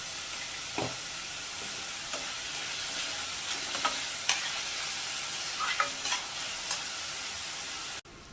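Onion frying in oil in a pan, a steady close sizzle with light scraping stirs now and then, and no voices.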